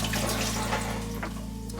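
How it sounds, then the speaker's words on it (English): Soaking water from cashews poured off and drained in a kitchen sink, a steady close rushing and splashing flow running the whole time against a constant low hum. "so I'm gonna drain the water off."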